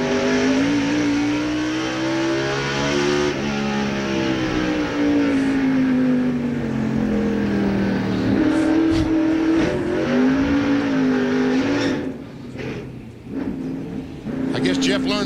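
A race car snaps into gear and accelerates hard out of a spin on an oval track, the engine note rising and swelling loudly before fading, with a commentator talking over it throughout.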